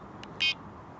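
A Mivardi Combo M1350 fishing bite alarm gives a short electronic tone: a faint brief blip followed by a louder, clear beep lasting a fraction of a second, close by, with no talking.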